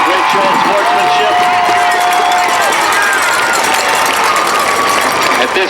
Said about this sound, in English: let's please give both teams a round of applause for an extremely exciting game